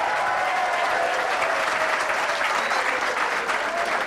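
A young audience at a Karachi gathering claps in sustained, dense applause, an even roar of many hands that holds steady throughout.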